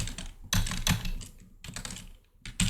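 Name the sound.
typing commands on a computer keyboard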